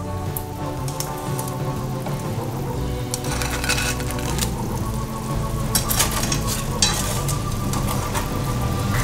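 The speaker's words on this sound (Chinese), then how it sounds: "现在加点胡椒粉进来，搅拌均匀后把豆包放进来" Sauce simmering and being stirred in a pan after pepper is added, steady close bubbling and sizzling with light scraping textures throughout, no talking.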